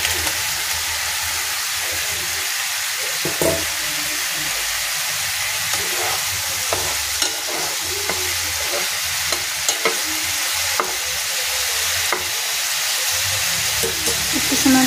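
Fried potatoes cook with a spice paste of cumin, turmeric and salt in a pan, giving a continuous sizzle and hiss with repeated scraping stirs and light knocks, with no talk.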